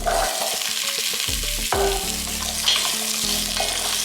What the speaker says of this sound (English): We're gonna just saute that for a couple minutes.